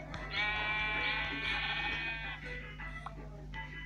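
Sheep in the video game Minecraft bleat in a sustained, quavering call that runs for about two seconds, followed by softer scattered game sounds and faint background noise.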